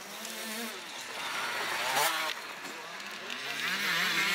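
Motocross motorcycles racing in a cross-country event, engines whining and rising and falling in pitch as bikes pass at a distance, the revs surging and fading over a few seconds.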